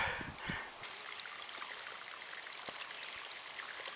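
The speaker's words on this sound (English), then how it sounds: "That's the best water in the world, coming right out of the side of this mountain." Spring water trickles steadily out of a mountainside along the Appalachian Trail, a soft continuous splash and dribble heard close by with no talking.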